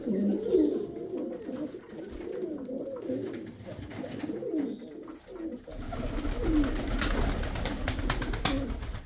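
Pigeons coo on a terrace in low, rolling repeated calls close by, then the coos fade under a broader hiss and rustle in the second half.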